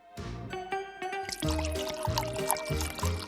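Liquid pours steadily into a container, a continuous splashing trickle with rising tone as it fills, close and fairly clear.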